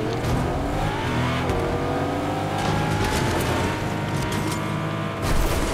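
A car engine revs and drones steadily in the Fortnite video game, loud and close throughout, with rising pitch sweeps as it accelerates and occasional sharp impacts.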